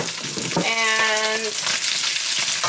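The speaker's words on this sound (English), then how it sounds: "I'm going to add the noodles" Rice noodles for shrimp pad thai hit a hot pan beside egg and fry with a loud, close, continuous sizzle, while a brief spoken word and a short tonal squeak sound early on.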